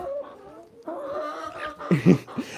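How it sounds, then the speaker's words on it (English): A hen clucks close by during backyard flock feeding with corn, a few soft broken calls building to a louder burst near the end, with other fowl faintly in the background. "She clucks, and the moment the corn comes out, she stops clucking again."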